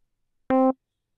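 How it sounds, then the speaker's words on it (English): A single synthesized MIDI note sent from JavaScript sounds briefly, a clean steady tone lasting about a quarter second, then silence. "you'll hear the notes playing for 200 milliseconds every second"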